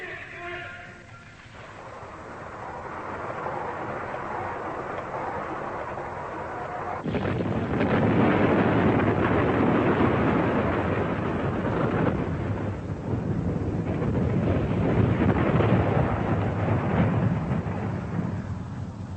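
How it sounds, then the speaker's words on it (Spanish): A distant, massive nuclear test blast from China's first atomic weapon, heard as a long, roaring rumble that swells abruptly partway through and rolls on for many seconds, thunder-like and noisy. "en 1963, sin su ayuda, China hizo estallar su primera arma nuclear."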